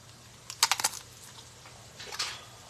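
Several quick crisp crunches from biting into a crunchy tostada topped with spicy Mexican chicken salad, a close cluster of bites followed by one more crunch about a second later, with no talking.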